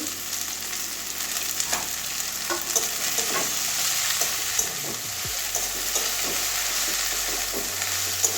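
Okra (bhindi) fries with spices in a pan, giving a continuous close sizzle broken by repeated scraping and stirring knocks, with no voices.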